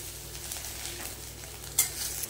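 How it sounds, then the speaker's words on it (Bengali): Ginger paste and onions sauté in hot oil in a pan, a soft steady sizzle with light stirring and one brief utensil clink near the end, quiet and alone. "আদাটাকেও সুন্দর করে কষে নিতে হবে"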